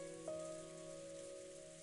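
Rain falling over a rose garden in Umineko no Naku Koro ni, a soft, steady hiss with a faint sustained tone underneath, quiet and unbroken for under two seconds.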